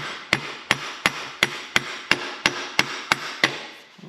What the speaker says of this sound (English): okay, I'm gonna tap it a little bit up there